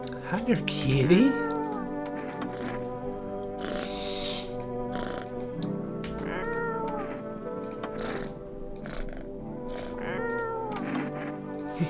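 A cat meows repeatedly, with drawn-out, rising and falling cries over about twelve seconds, close and fairly loud, while people talk alongside.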